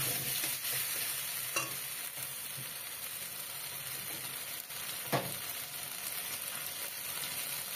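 Spice paste and chopped tomato are sautéed in a pan for beans curry, giving a steady, close sizzle with occasional scraping strokes of the stirring spoon.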